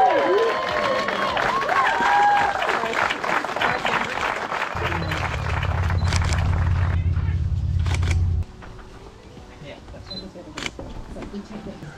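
Wedding guests at a Sydney ceremony break into cheering and clapping, a lively crowd swell with voices mixed in and camera shutter clicks, fading as a steady low hum takes over.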